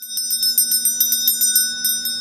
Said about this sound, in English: That bell sounds good.